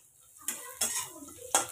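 Coconut pieces fry with onions in a pan, heard as a faint background sizzle broken by three quick, scraping strokes of a spatula stirring.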